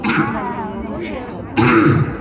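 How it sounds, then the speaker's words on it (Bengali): A voice clears its throat close to the microphone with two rough, raspy bursts, a brief quieter gap between them and the second burst louder. "গলা পরিষ্কার করছি"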